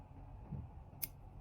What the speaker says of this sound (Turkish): Sonra bunu makas yardımıyla kesiyorum.